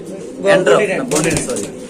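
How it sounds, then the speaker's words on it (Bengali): Pigeons coo and warble close by, with the murmur of people talking mixed in throughout. "আজকে এখানে পাঁচ পিস কবুতর আছে"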